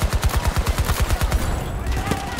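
Rapid automatic gunfire bursts in a video game, a fast evenly spaced volley of sharp shots up close, then trailing off into scattered distant fire and background noise.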